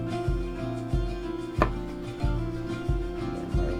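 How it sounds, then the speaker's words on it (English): Knife chopping potatoes on a cutting board, six sharp thuds at a steady, unhurried pace, close and clear with no talking. "These potatoes weren't in the best shape, so we're going to have to cut some of it off."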